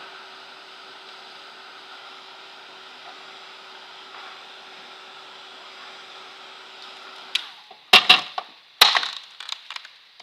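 A hair dryer or heat tool drying paint on a painting blows a steady, moderate whoosh for about seven seconds, then cuts off, followed by a few sharp clatters and knocks as things are handled.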